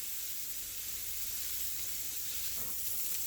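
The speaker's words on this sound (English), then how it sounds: "add your steak to a very hot pan" Steak sizzling hard in a very hot pan, a steady loud broadband hiss of searing that holds for a few seconds with a slight flare near the end, no voices.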